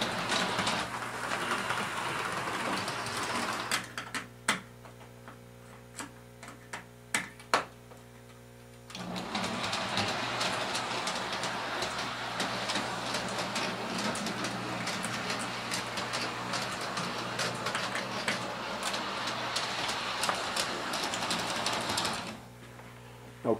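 S-gauge and large-scale model trains run on DC track, a rapid mechanical clatter and motor whir that drops out briefly midway, leaving only a low hum and a few clicks, before resuming strongly.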